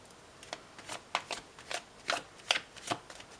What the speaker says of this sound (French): C'est parti pour un tirage de cartes pour vous.